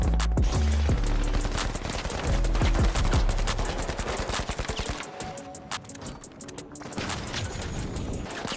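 Rapid gunfire rattles in dense bursts in The Finals video game, shooting at an explosive tank, with heavy low booms and clattering impacts continuing loudly throughout.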